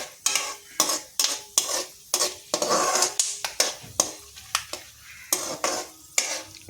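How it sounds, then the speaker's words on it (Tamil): Pumpkin and watermelon seeds roasting in ghee in a pan, with a spoon scraping and clinking against the metal in a quick regular rhythm over a soft continuous sizzle, close and fairly loud. "இப்போ நெய்யில் பம்கின் சீடையும் வாட்டர்மெலன் சீடையும் அதை வறுத்து"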